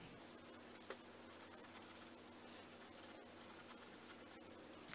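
Faint, close scratching of a pen on paper as a cross-multiplication step is written out by hand, steady soft strokes in a quiet room.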